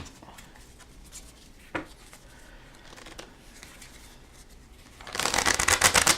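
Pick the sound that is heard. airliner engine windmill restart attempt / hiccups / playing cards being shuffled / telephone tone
playing cards being shuffled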